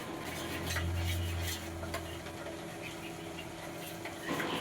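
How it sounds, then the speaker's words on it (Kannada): A spoon stirs curd with garam masala, chilli powder and turmeric in a bowl, giving soft, repeated scraping and clinking strokes close by, with a low hum beneath. "1 ಕಪ್ ಆಗುವಷ್ಟು ಮೊಸರಿಗೆ ಸ್ವಲ್ಪ ಗರಂ ಮಸಾಲೆ, ಸ್ವಲ್ಪ ಖಾರದ ಪುಡಿ, ಅರಿಶಿಣ ಹಾಕಿ ಚೆನ್ನಾಗಿ ಮಿಕ್ಸ್ ಮಾಡ್ಕೊಳ್ತಾ ಇದ್ದೀನಿ"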